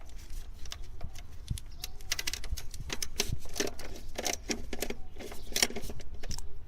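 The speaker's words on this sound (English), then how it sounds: "Then we're going to undo these two bolts. They're 10mm." Quiet, rapid clicking and ratcheting comes from close by as 10mm bolts are undone on a Toyota Previa engine, in quick irregular runs with small metallic taps.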